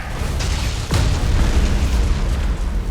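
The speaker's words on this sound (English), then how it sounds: "Initiate Thunderhawk bombardment." Thunderhawk bombardment explosions in the space battle game Battlefleet Gothic: Armada 2 burst in with a sudden crack, then roll into a loud, sustained low rumble of booms.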